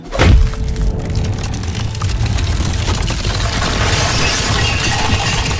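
A wooden cart overturns and breaks apart, opening with a loud crashing burst of cracking and splintering wood, then settling into a dense, sustained rumble of scattering debris.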